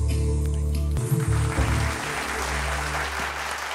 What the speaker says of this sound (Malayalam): ഒരു വലിയ കൈയടി ഫോർ രാജ് കലീഷ്